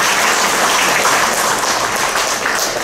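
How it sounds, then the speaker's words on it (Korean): An audience at a Catholic pastoral research symposium gives a loud, dense round of applause that holds steady from start to end. "큰 박수 부탁드립니다"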